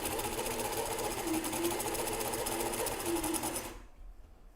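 A sewing machine stitching a straight seam runs in a steady, rapid mechanical whir with a regular needle rhythm, close and clear, then stops abruptly near the end.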